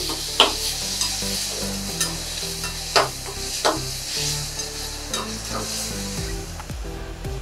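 Tamarind sizzles as it fries in a pan, with a steady crackle under repeated scraping strokes of a spoon stirring it around.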